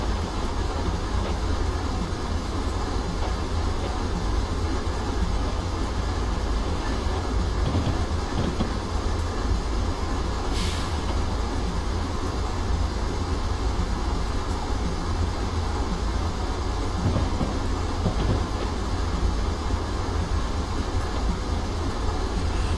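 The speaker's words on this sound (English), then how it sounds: "We're in a 55 now, we can let the train coast down the hill" An ES44AC diesel locomotive coasts downhill on Sherman Hill in Train Simulator 2016, giving a steady low rumble and continuous rolling rail noise with no distinct engine throttle changes.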